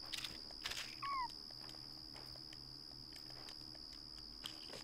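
A cat in the video game Yonder gives a short meow, a brief rising call heard once over a steady ambient game soundscape with a faint high tone.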